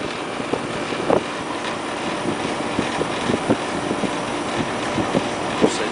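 An air conditioner compressor runs with a steady close mechanical drone and rumble, faint knocks and ticks scattered over it, no talking.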